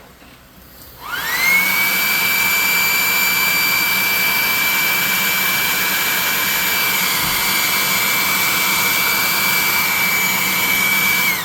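Spray priming miniatures with a glove on the hand: a steady, loud mechanical whir spins up after a second of quiet and holds evenly to the end, with no voices.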